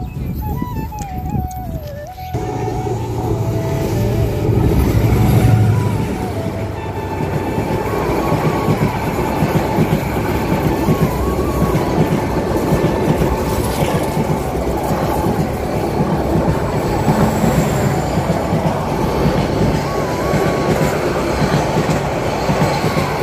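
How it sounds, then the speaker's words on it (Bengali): A train rolls past on railway tracks outdoors on a windy day, loud and close, with a rhythmic clickety-clack of wheels, squealing metal and a brief horn at the start, continuing steadily throughout. "অবশেষে আপনাদেরকে ট্রেন দেখাতে পারবো"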